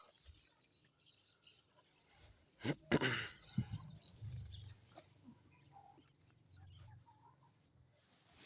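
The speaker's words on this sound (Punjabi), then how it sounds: "ਬਾਹਰ ਦਾ ਕੀੜਾ ਮਕੌੜਾ ਮੁਰਗੀਆਂ ਚੋਗ ਰਹੀਆਂ ਹਨ" Free-range desi hens forage for insects outdoors, clucking softly and intermittently nearby, with a few sharper squawks and rustling scratches in the middle, against a quiet background.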